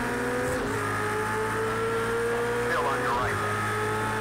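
Race cars running side by side in Project CARS 2, a steady loud engine drone with layered whining tones and brief rising pitch sweeps, while someone talks in French over it.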